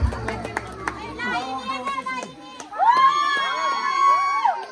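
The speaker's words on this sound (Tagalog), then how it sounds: "nabigyan po natin na malakas na palakpak para sa Justo Aguilar family" A crowd at a family clan reunion in Libon, Albay cheers and claps, with children shouting and voices whooping over scattered claps, swelling louder in the second half.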